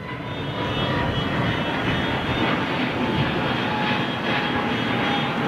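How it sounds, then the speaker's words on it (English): An Airbus A330 jet taking off, its engines giving a loud, steady, broadband roar that holds throughout with no talk. "loving the 330 takeoff"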